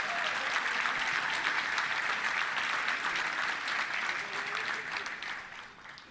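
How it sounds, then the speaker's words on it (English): Sustained applause from a Little Rock Touchdown Club audience honoring former Razorback players and coaches, dense, steady clapping that gradually tapers off near the end. "Let's give a round of applause to all of our great Razorbacks."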